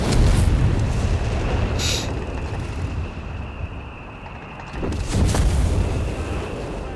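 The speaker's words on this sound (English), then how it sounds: "Quite an immense amount of artillery" Artillery barrage pounding a battlefield in Company of Heroes 3, a dense rumbling wall of explosions with heavier booming bursts near the start and again toward the end, loud and continuous throughout.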